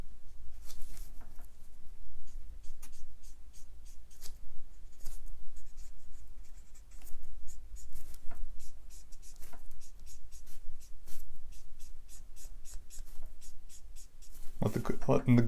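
Copic markers stroke and scratch over a Superman drawing on paper in quick repeated squeaky strokes, close and distinct, with a faint low hum underneath and no talking.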